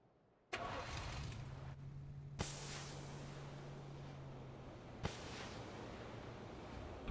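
A car engine in the video game PUBG starts abruptly and settles into a steady idling drone with a low hum, broken by a couple of sharp clicks, no voices.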